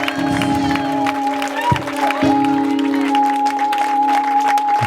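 An audience applauds a choir, a dense steady clatter of clapping lasting throughout over a sustained background tone.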